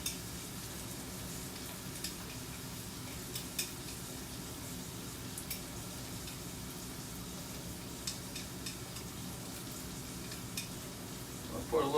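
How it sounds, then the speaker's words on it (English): Turmeric powder being stirred around a hot pan, giving a faint steady sizzle with light scraping and small clicks from the utensil, quiet and close, with no talking. "I'll get in here and kind of stir this around and get it nice and powdery"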